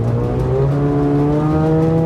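A Mazda RX8 drives on an icy, rutted track, its engine holding a steady, loud harmonic drone up close for about two seconds before cutting off abruptly.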